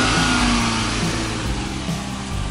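Pickup truck engine running with a steady mid-pitched rumble and mild revving, close and fairly loud throughout, no talk.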